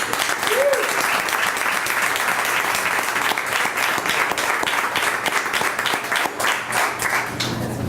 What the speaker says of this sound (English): So please join me in giving him a warm round of applause, Darío Collado.